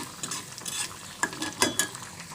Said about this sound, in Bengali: আর এখানে হচ্ছে ডালটা বাগার দিয়ে নিব